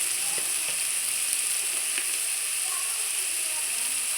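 Eggplant frying in a pan with salt, a steady close sizzle and hiss that runs the whole time with faint stirring clicks.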